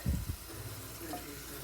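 Water runs and splashes over canned cut green beans in a kitchen, a brief louder gush at the start settling into a soft, steady trickle.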